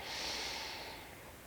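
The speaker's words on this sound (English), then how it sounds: "Listen to the sound of your breath, the feeling it makes as you breathe in and out." A single long, deep breath drawn in steadily during a gentle stretching routine, airy and close, with no talk over it.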